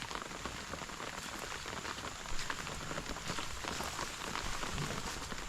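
Steady rain falls outdoors as a dense, even hiss of drops striking surfaces, continuous and moderately loud with no voices over it.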